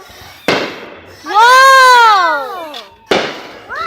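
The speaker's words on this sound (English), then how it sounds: "Having fireworks and it's awesome and cool and everything." Festive fireworks launch and burst close by, with sharp bangs and whistling, rising crackle between them, loud and repeated over a few seconds while a person exclaims.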